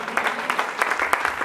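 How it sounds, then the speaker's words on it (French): A church congregation applauding and cheering in praise during a sermon, dense steady clapping from many hands filling the space for a brief moment. "J'aimerais que tu te lèves là où tu es en acclamant Dieu très fort."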